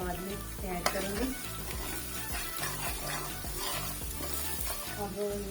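Curry leaves, cardamom pods, cinnamon, turmeric and garam masala fry in a pan for a fish curry, giving a steady close sizzle with repeated rhythmic scraping strokes of a spoon stirring.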